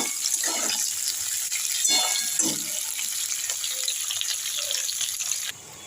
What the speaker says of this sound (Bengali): আমি একটু ভালো করে এইভাবে সজনে ডাঁটাটা দিয়ে ভেজে নিয়ে আমি দেখাচ্ছি আপনাদেরকে